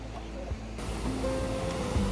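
Steady wash of ocean waves at high tide on the coast of Durrës, Albania, a broad rushing roar close by with a voice briefly heard over it.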